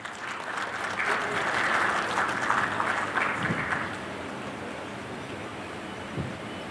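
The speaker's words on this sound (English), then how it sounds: "Ladies and gentlemen, please give a round of applause." A round of applause from an audience at a formal event, steady and moderately loud clapping swelling briefly then settling into a softer, even patter.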